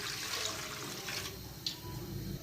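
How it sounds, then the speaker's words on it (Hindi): Milk pours into a cooking pot with a steady, close liquid rush, slightly gurgling, with no speech. "पतीले में मैं दूध शामिल करने लगी हूँ।"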